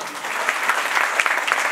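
An audience claps at a Marathi stage event featuring Dhanashree Lele, a dense, steady burst of applause with no voices over it.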